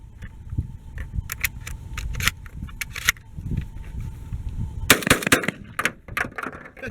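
A Benelli Super Vinci semi-automatic shotgun fires budget shells outdoors, giving a quick run of sharp, loud reports. A final tight burst of shots comes near the end, and no one speaks.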